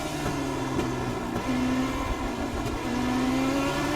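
Car engine in a racing video game holding a steady mid-pitched drone with brief rising rev notes, continuous and loud with no talk.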